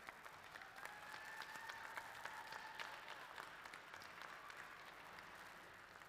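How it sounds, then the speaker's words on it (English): Steady applause from an audience at a glassblowing demonstration, a dense wash of claps sustained for about six seconds, moderately distant and even in level, with a faint high tone running through it. "let's give them a round of applause for all their effort that they've put in so far"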